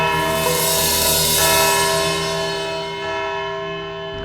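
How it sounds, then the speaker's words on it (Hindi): A bell rings in a courtroom scene in a Hindi TV crime drama, a loud, close, sustained ringing tone that slowly fades over several seconds. "घंटी बज गई"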